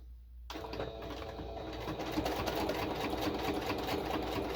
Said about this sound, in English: I can even tell this is thicker for my sewing machine